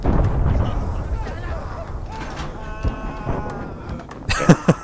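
Explosion destroying a mortar position in the WWII game Gates of Hell, heard as a loud rumbling blast amid ongoing battle noise, followed by sharp bursts of gunfire near the end.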